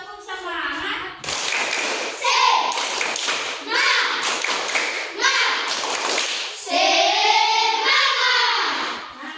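Children perform the rhythmic tepuk semangat clapping game in a classroom, bursts of hand claps and taps falling in a patterned beat, with children's chanting voices between and over the claps.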